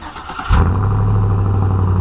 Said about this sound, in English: So with that, I will start the truck